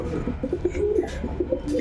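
Several pigeons coo in soft, repeated low phrases close by, part of a breeding pair of unique strawberry-coloured pigeons; the murmuring calls overlap steadily with no one talking.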